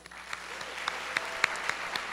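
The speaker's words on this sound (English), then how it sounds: "And let's one last round of applause for Julia Zweig," Audience applause at a university founders' dinner celebration, a steady patter of many hands clapping in a hall, fairly faint and even for a couple of seconds.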